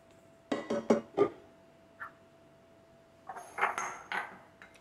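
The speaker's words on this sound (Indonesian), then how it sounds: "Lalu kita baru masukin gula dan garam, ya. Lalu diaduk lagi." Dry bread ingredients with yeast, sugar and salt get stirred in a bowl, giving close, sharp clinks and scrapes of a utensil against the bowl in short bursts with pauses between them.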